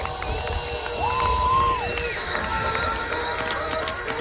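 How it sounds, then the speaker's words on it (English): An airshow crowd in Louisiana cheers, whoops and shouts in a loose, rolling swell, with a loudspeaker voice and scattered calls rising over the general noise of the gathered spectators. "they always seem to fly better when they can hear the roar of a Louisiana crowd"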